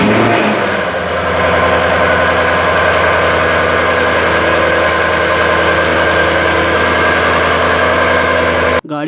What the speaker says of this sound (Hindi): गाड़ी के साउंड की बात करें तो काफ़ी अमेजिंग साउंड है इस गाड़ी का, स्पेशली ट्यून्ड होने के बाद।